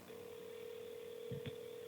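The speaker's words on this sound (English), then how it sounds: "As you can hear, the phone is ringing." A telephone ringback tone plays over a speakerphone as one steady, faint continuous tone under a low hum, with a brief click near the end.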